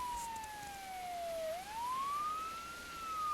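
Fire truck siren in a firefighter video game, a single loud wailing tone that glides down, then sweeps back up, steady and alone with no talk.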